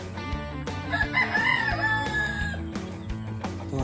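A rooster crows loudly and close by in a backyard in Montalban, Rizal. The drawn-out call rises and falls, with hens clucking and scattered farmyard knocks around it.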